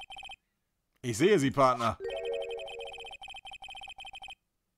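Repeated electronic phone ringing in the game Phoenix Wright: Ace Attorney after a redial, regular double-burst rings heard alone at first, then continuing under someone speaking German and an in-game chime.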